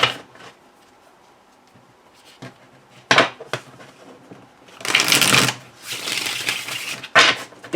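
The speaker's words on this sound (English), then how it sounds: "shuffling it, riffling it is so satisfying" A tarot card deck is riffle shuffled in short crisp bursts, a few quick flutters and snaps separated by quiet pauses, close by.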